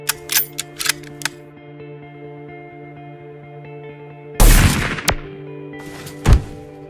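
A Nerf Ultra Pharaoh blaster fires with a loud sharp burst and a following thump, after a few softer mechanical clicks over a steady humming background.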